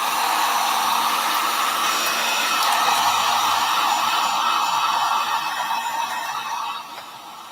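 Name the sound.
heat tool drying distressed magazine paper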